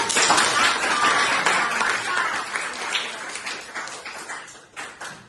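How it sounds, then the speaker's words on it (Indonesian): Students clap together in a classroom during a math lesson, a dense, close burst of applause that carries through the whole stretch and thins slightly toward the end. "Tepuk tangan untuk"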